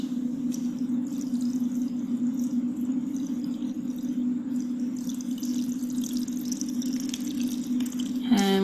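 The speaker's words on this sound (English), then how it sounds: "now I'm going to add some additional water so that the leaves are completely submerged" Water pours steadily into a dish of plant leaves with vinegar while making plant prints, a continuous close rushing splash over a low steady hum, ending in a brief bright clink.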